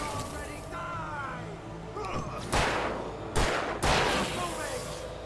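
Gunshots go off in the video game Alan Wake, with a few sharp, loud cracks spaced over the second half while people talk excitedly throughout.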